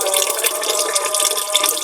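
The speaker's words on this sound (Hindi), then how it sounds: "तकरीबन 3 दफा हमने इसको वॉश करना है।" Soaked broken wheat (daliya) being rinsed in water, a steady close splashing and trickling of water in a bowl or sink with faint dripping, no voices.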